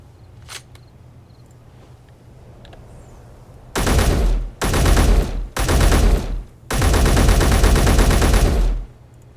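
Rapid weapon gunfire in the Space Engineers video game, four loud, dense bursts of automatic fire, the last one longest, close and dominant with only faint background between them.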